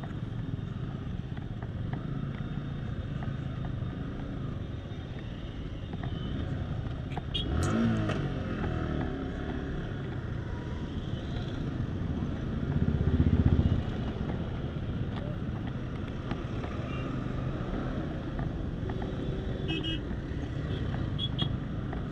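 Road traffic around a Yamaha R15 V3 motorcycle on a solo ride toward Kolkata, a steady broadband rumble of engines and passing vehicles close by, with a brief louder swell midway and another later, no talk over it.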